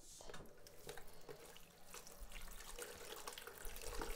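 Tap water runs steadily into a sink while a food colouring jar is given a quick rinse, with small clinks of the jar heard over the continuous close flow.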